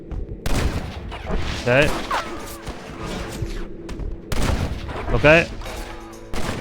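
Gunfire from the video game Red Dead Redemption, several shots and bursts spread across the clip, mixed with game music and sound effects while a player talks over it.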